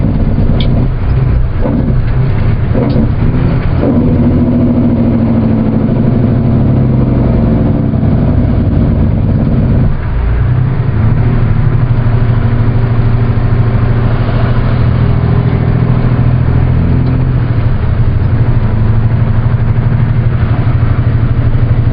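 A loaded semi truck, spec'd to 750 horsepower at the crank, runs steadily with a deep, loud diesel drone. The engine note shifts slightly partway through and stays close and continuous, with no talk over it.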